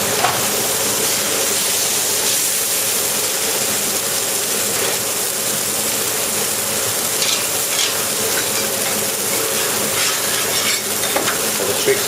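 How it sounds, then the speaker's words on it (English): Steak sears on a flat grill with a steady, close sizzle and spitting crackle. Faint clicks and kitchen clatter sit in the background, and no one speaks. "Then I go straight on the flat grill and give it a mark."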